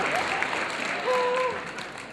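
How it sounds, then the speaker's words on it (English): An audience at a horror fan convention Q&A claps steadily in a large hall, a continuous wash of applause with a faint tonal whine threaded through. "Big round of applause"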